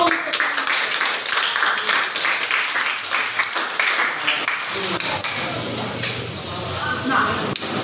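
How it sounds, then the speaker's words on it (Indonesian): Students in a school classroom clap together at their teacher's prompt, a busy patter of hands that thins out, with voices talking over it. "Baik, tepuk tangan dulu."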